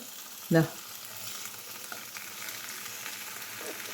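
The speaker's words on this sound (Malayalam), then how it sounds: "ചെമ്പല്ലി ഇവിടെ ഫ്രൈ ആയി വന്നിട്ടുണ്ട്." Chempalli fish fries in a pan with a steady, soft sizzle and crackle throughout, broken early by a single louder clunk.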